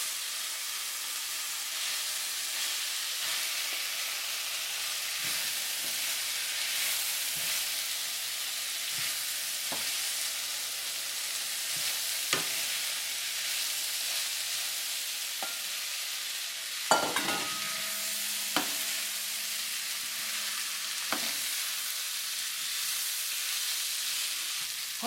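Pork and celery stir-fry in a hot pan with soy and oyster sauce, giving a steady, moderate hiss and sizzle. Occasional spatula scrapes and clacks sound against the pan, including a sharper knock partway through.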